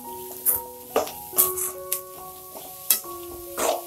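Radish poriyal is stirred in a pan as it sautés: a soft sizzle runs underneath while a spatula scrapes and clinks against the metal in short, irregular strokes close by.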